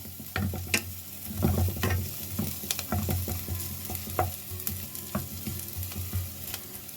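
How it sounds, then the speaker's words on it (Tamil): Garlic sautés in a pan with a steady close sizzle, broken by repeated scraping and stirring clicks from a spatula throughout, with no voices. "இந்த பூண்டு வாசனை போகிற வரைக்கும் வதக்கி எடுக்க வேணும்."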